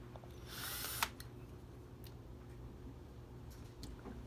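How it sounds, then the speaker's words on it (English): A short whir of a power drill boring a pilot hole into wood, lasting about half a second, followed by quiet room tone and a few faint clicks. "We'll start the camera installation by drilling pilot holes"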